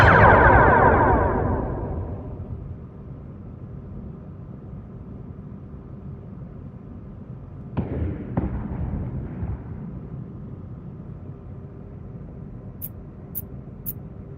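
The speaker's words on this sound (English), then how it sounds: "Target the nearby ship and fire torpedoes at it." Torpedoes launched at a nearby ship in the Star Trek Bridge Crew game: a loud opening burst that decays over about two seconds, then a low rumble, sharp impact cracks near eight seconds and a few faint high clicks toward the end.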